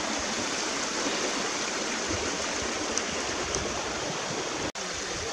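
Steady rushing water of an unnamed river flowing beneath a bridge on a trail toward Popco Falls, a continuous broadband wash that holds constant throughout with a single sharp click near the end.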